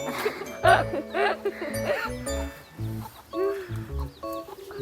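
White chickens at a Jindo dog theme park cluck and call in short repeated bursts, close and fairly loud, with people's voices mixed in.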